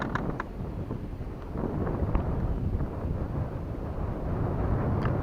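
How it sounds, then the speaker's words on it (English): Gusty wind left over from a passing hurricane buffets the microphone outdoors on a fishing trip, a low rumbling roar that swells and stays steady, with no talking. "That's that wind remnants from the hurricane."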